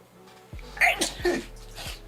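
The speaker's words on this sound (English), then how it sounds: "Oh, I think I got a sneeze." A single man's sneeze, close and fairly loud, preceded by a sharp breath and followed by a brief trailing exhale.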